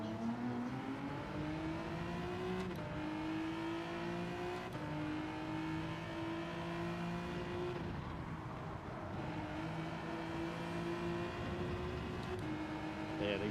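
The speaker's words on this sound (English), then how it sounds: "these Porsches are on the go" Porsche race cars in Gran Turismo 7 drone steadily, their engine pitch rising through the gears and dropping at each shift, a continuous whining roar that lasts the whole stretch.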